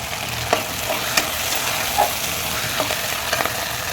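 Taro root frying in oil in a covered pan, a steady close sizzle with a few soft clinks and stirring taps scattered through it.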